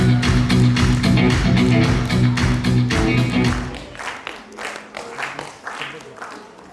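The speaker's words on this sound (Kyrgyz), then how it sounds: "Саламдашуу шарты боюнча кол жаап коштоп кубаттап турабыз" An audience in a hall claps to greet a team at a staged school competition final. Rhythmic applause rings loud at first over music, then thins into scattered, fading claps.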